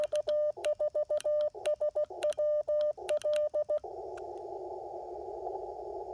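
Morse code on an Icom IC-705 radio comes through as a clean sidetone, a fast run of short and long beeps in an irregular keyed rhythm, then giving way to a steady hiss of static.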